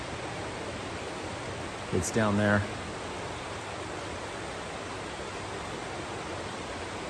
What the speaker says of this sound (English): you can hear the running water